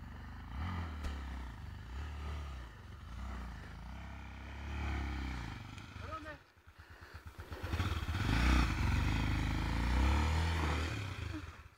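A motorcycle engine idles and revs as a rider practises clutch control on a dirt track, rising in pitch and loudness toward the end, with people talking over it.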